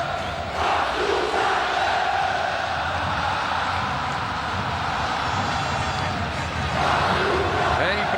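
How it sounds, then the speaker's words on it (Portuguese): Vasco da Gama supporters roar in a packed stadium in Goiânia at a 2012 Brasileiro match against Atlético-GO, a dense, steady crowd din of chanting and cheering that holds loud throughout, swelling slightly near the end. "É impressionante a força da torcida do Vasco no Centro-Oeste, em todo o Brasil"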